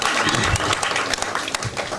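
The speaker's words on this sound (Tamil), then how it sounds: "இதுக்கு ஓங்கி ஒரு கைத்தட்டு தட்டலாம்னு நினைக்கிறேன்." An audience at a film audio launch event claps, the scattered applause running under a speaker's voice.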